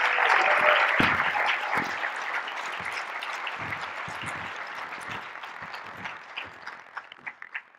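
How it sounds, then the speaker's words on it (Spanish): A church congregation applauds loudly to welcome a pastor at a united prayer service, the clapping gradually thinning and breaking into scattered individual claps near the end. "con un fuerte aplauso."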